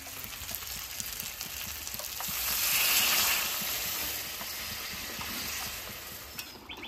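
Fish sizzling and frying in spiced masala in a pan for a Bengali shankar fish biryani, a steady loud hiss that swells midway and then settles, with no talk.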